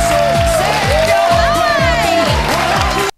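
A room full of adults stands around cheering and clapping for an 11-year-old drag performer, loud and continuous, then cutting off abruptly, with voices and music mixed in.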